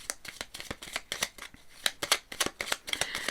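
Petit Lenormand cards being handled and laid out, a quick run of crisp papery snaps and flicks in an uneven rhythm, close and fairly quiet with no talk.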